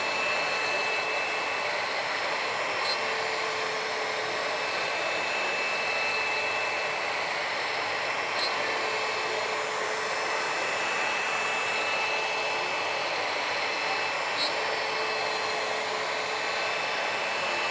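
A small demonstration CNC router cuts material with a steady, high-pitched whine and hiss. The sound is continuous and fairly close, with faint periodic ticks and no talking.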